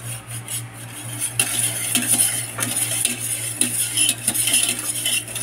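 A spoon stirs a dessert mixture in a pot on the stove with constant scraping and clinking strokes. Faint sizzling sits under the stirring, which is close and fairly loud.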